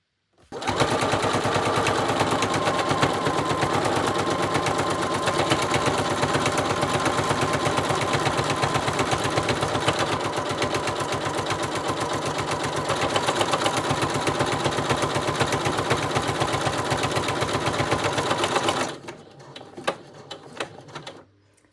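A sewing machine stitches a buttonhole in a fast, continuous, loud mechanical chatter for about eighteen seconds, then stops, leaving a few scattered clicks and handling sounds.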